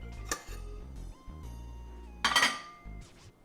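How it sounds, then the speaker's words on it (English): Ceramic bowls clink and knock against each other and a hard counter, several sharp close clatters with a louder rattling cluster in the middle, heard alone without talk. "Let me get another bowl because that one is cracked."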